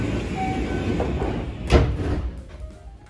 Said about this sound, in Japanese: 大阪上本町駅を8時21分に定刻通り出発いたしました。